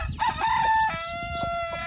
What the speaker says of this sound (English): all the chickens and the roosters will put themselves to bed